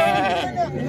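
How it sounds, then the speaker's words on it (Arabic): At the Souk Larbaa Ouled Said livestock market, ewes let out a loud, close, wavering bleat that overlaps someone talking. "الله يسخر زينات النعجات"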